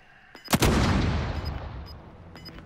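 A single loud sniper rifle shot in Call of Duty Warzone cracks sharply, then a long booming echo slowly fades, with faint high pings before and after.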